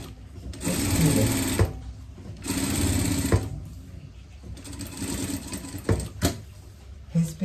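A sewing machine stitching a seam on a fabric Elizabethan pet collar, close loud mechanical whirring in several runs separated by short pauses, with a voice talking in between.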